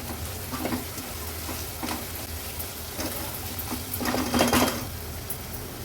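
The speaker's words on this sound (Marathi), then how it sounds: "हाय फ्लेमवर हा कांदा थोडासा असा परतून घेऊया।" Chopped onion being stir-fried on a high flame in a pan for a Maharashtrian Agri-Koli style veg thali, with steady sizzling and repeated scraping and stirring strokes of a spatula against the pan.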